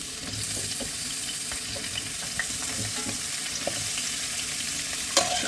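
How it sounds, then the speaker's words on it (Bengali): Jackfruit sizzles and crackles steadily in hot mustard oil, a continuous frying hiss with occasional soft pops and stirring clicks. "তেলটা গরম হয়ে গেছে, আমি এঁচোড়গুলো সব ছেড়ে দিলাম।"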